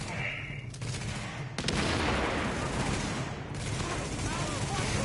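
A grenade blast followed by sustained gunfire in the shooter game The Division, a loud burst near 1.6 seconds giving way to continuous dense firing, with voices speaking over it.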